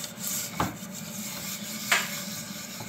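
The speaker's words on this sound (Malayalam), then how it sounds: "ഇതിന് സ്ക്രബ്ബർ വെച്ചിട്ട് ഒന്ന് തുടച്ച് കൊടുക്കാമെന്ന്" A stained pressure cooker is scrubbed by hand with a scrubber, giving a soft continuous rubbing rasp with two sharper scraping strokes, close and moderately quiet with no talking.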